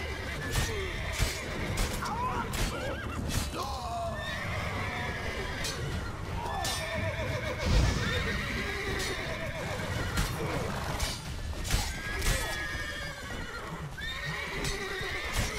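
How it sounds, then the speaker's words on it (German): Horses neigh and whinny in panic during a The Witcher 3 video game battle, repeated shrill calls over clattering hooves, crashes and busy game noise, all close and loud throughout. "Oh shit, die Pferde drehen durch."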